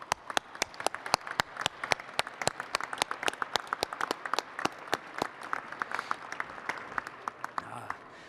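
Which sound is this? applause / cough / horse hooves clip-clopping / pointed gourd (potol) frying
applause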